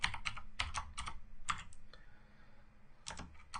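Code being typed on a computer keyboard, close crisp clicking keystrokes in quick bursts with short pauses between them, no talking.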